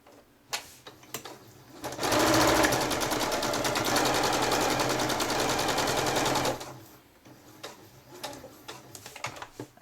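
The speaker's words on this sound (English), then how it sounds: "I'm going to just sew to this pin line and then I'm going to take a couple of back stitches" A sewing machine stitches fabric along a pin line in a rapid, even burst of mechanical clatter lasting about four seconds, framed by scattered clicks and handling taps before and after.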